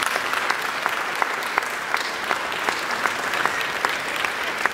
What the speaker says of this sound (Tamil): கைத்தட்டலாமே.